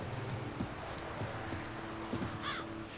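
A horse's hooves clip-clop steadily in The Witcher 3: Wild Hunt, a rhythmic trot over a constant bed of game ambience and wind, with no talking.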